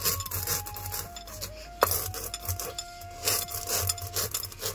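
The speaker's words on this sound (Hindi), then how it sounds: "तो हमारे साथ साथ यहाँ गरिमा सीख रही है नमक पीसना" Salt being ground by hand on a stone, a close, steady rasping and rubbing stroke repeated again and again, with one sharp knock partway through and no talk over it.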